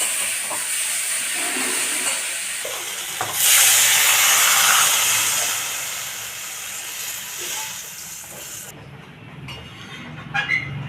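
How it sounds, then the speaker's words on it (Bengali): Water poured into a hot pan of spiced masala curry for a sola kochu (taro) dish sets off a sudden loud sizzling hiss, which swells briefly and then settles to a quieter bubbling hiss. "এবার আমি জল দিয়ে দেবো।"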